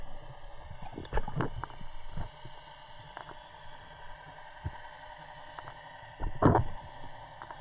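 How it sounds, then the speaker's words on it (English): A boat propeller spinning in the water off the Oregon coast, heard underwater while spearfishing: a low steady droning hum with faint harmonic tones, broken by a few soft thumps and knocks. "that sound you hear in the background is actually a boat's propeller spinning in the water"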